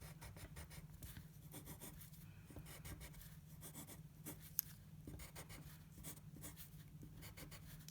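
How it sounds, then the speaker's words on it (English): An edged italic calligraphy pen scratches across paper, drawing a nib ladder: soft, close, rhythmic strokes with brief pauses and one small tap, and no talk. "I'm making a little bit of a nib ladder here so I can determine where to write within."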